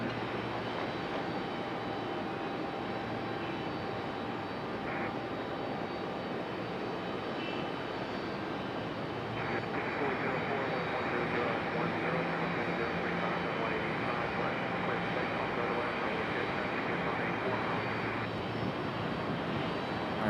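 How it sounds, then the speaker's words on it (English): A CRJ regional jet departs Raleigh-Durham International Airport, its engine roar a steady broadband rumble heard from a distance that swells slightly toward the middle of the clip, with no talk over it. "Alright, we got the CRJ departing now."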